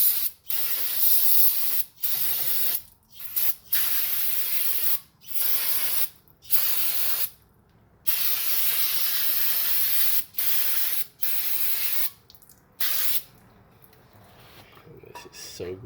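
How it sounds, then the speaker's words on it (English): An aerosol can of brake cleaner is sprayed onto a car's rusty brake rotor in a series of loud, close hissing bursts, about a dozen of them of varying length separated by short pauses, with the last ones shorter and sputtering. "So we're gonna get some brake cleaner and try to clean some of this brake dust and rust out."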